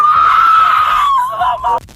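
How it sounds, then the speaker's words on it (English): A young woman screams at the top of her lungs during a police traffic stop, one long, piercing, wavering shriek that breaks off abruptly near the end, loud and close. "screaming at the top of her lungs"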